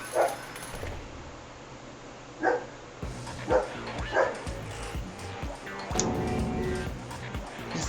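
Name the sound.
dog barking in the background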